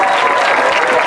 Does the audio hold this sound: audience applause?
yes